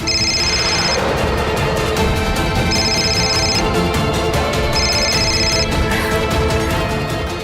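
A mobile phone rings insistently with a repeated incoming call, its electronic ringtone bursts recurring about every two seconds, loud and close over a busy background.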